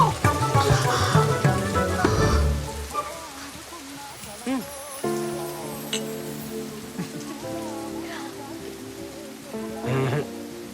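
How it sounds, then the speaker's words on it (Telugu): Rain falls steadily as a soft broadband hiss throughout a movie scene, with music and people talking over it. "Oh, it's raining."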